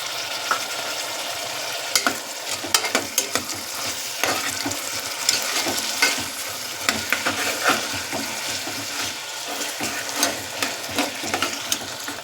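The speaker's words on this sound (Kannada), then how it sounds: "ಈ ಬಟಾಣಿ ಮತ್ತು ಆಲೂಗೆಡ್ಡೆ ಒಂದು ಐದು ನಿಮಿಷ ಚೆನ್ನಾಗಿ ಒಗ್ಗರಣೆಲಿ ಬೇಯಬೇಕು" Peas and potatoes fry in a spiced tempering, with tomatoes going in. A continuous sizzle runs under frequent scraping stirs and sharp spatula taps, close and busy, and no one speaks.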